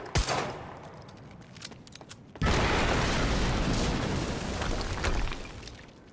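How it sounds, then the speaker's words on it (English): An explosion booms in the game Quantum Break amid bursts of gunfire, with sharp cracks giving way to a sudden loud blast and a long rumbling roar. "we just heard an explosion near the harvesting perimeter"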